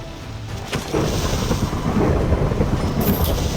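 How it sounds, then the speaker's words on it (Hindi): Thunderstorm returning in the video game Minecraft: dense rain and wind noise with rolling thunder rumbles and a few sharp bursts, loud and steady with no one talking. "और तूफान फिर से लौट आया था।"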